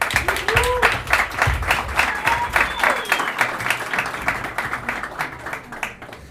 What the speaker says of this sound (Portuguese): eu queria uma salva de palmas para a Gazetinha da Guanabara e para o André